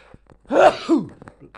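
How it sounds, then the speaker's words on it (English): A single sneeze bursts out partway through, a sharp gasping intake followed by a loud explosive release, then quiet. It sounds close and stands alone, with no talking over it. "I'm going to sneeze."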